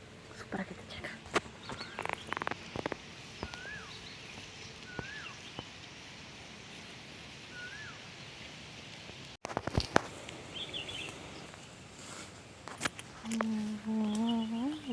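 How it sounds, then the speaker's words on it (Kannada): A peacock calls faintly from a distance several times, short rising cries spaced a few seconds apart, among rustling and nearby voices talking. "ನವಿಲು ಬಡ್ಕೊತಾ ಇದೆ"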